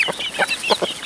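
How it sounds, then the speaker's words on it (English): Chickens clucking right around someone's feet at an off-grid homestead, a quick run of short, close, bright clucks in an uneven rhythm with no voices. "I can barely walk without almost stepping on a bird."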